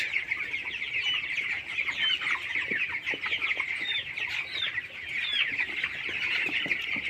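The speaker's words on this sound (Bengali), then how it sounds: "এটি হচ্ছে একটি ব্রয়লার মুরগির ফার্ম এখানে মুরগি আছে প্রায় নয়শো পঞ্চাশ পিসের মতো" Dense, continuous clucking and chirping from a flock of about 950 22-day-old broiler chickens in a farm at night fills the space, steady and busy throughout with no voices.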